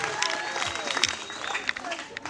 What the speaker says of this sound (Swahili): Wewe mpigie makofi mazuri.